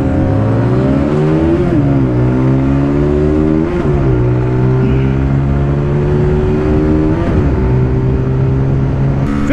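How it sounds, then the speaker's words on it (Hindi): Bajaj Pulsar NS 160 motorcycle engine revving hard and repeatedly bouncing off its rev limiter during a drag race, loud and close, with steady harmonic pitch that climbs and then drops at each limiter cut, with no talking. "बहुत जल्दी लिमिटर आ जा रहा है इसका"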